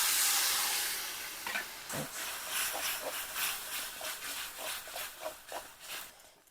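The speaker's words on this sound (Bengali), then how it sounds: "এবারে দিচ্ছি জল।" Water is poured into hot spices (chilli and turmeric) in a pan for a Bengali prawn dish, a loud hiss at first that settles into uneven bursts of sizzling and bubbling.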